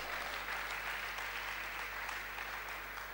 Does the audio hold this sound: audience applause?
yes